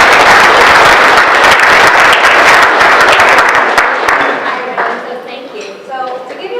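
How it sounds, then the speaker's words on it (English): Loud, close applause greets a keynote speaker at a programming talk, then fades out after about four seconds as a voice begins speaking. "How about we give her a big round of applause?"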